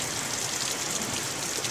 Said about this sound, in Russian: А теперь полил ужасный страшный ливень.